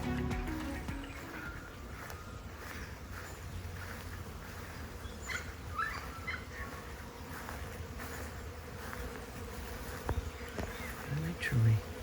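Bees hum around a large flowering callistemon and melaleuca in a native garden. The faint, continuous buzzing has individual insects passing close now and then, over a soft outdoor background.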